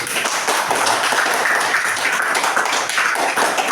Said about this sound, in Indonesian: Tepuk tangan buat temannya.